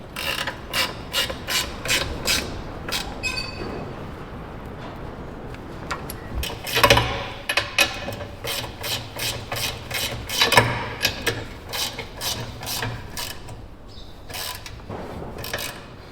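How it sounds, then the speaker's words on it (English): A ratchet wrench clicks steadily while bolting metal beams, in bursts of rapid pawl clicks separated by short pauses, with a few louder metallic knocks and scrapes in between, close and moderately loud, no talk. "We'll go with bolting first"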